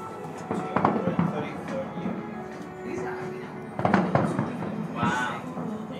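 Big aerial firework rockets burst at a Fourth of July show, a few dull booms and crackles rolling in the distance while excited voices talk and exclaim over them.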